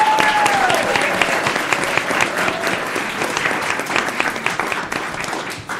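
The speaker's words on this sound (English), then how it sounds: "Let's give them another round of applause." Sustained applause from an audience at a school district governing board meeting honoring students, steady and loud throughout, with a voice speaking over the clapping.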